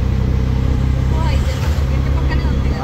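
Engine drone and road rumble fill the cabin of an auto rickshaw moving through Bangalore traffic, steady and close throughout, with a voice talking over it.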